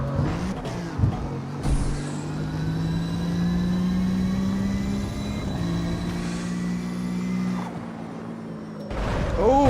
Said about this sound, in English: I love a bit of turbo noise